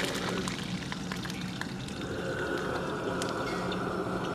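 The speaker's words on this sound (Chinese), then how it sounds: "再加入少许的底油" Hot oil goes into a preheated wok before ribbon fish are fried, giving a steady close sizzle and pouring wash with faint crackles, no talk.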